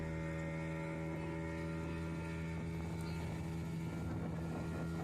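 A motorboat engine drones steadily and loudly through a ride out to an island near Chennai, its deep hum joined by wind rushing past, with no talking.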